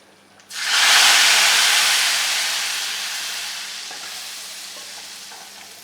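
A hot tempering is poured over beef nihari curry, setting off a sudden loud hiss that swells at once and then slowly fades as a long, steady sizzle.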